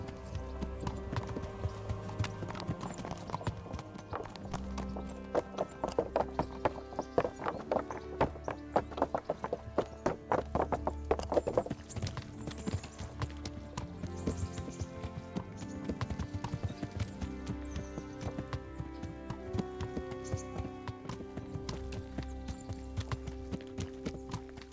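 Horse hooves clip-clopping steadily while riding in a medieval adventure video game, a quick regular rhythm that continues throughout, fairly faint, under background music.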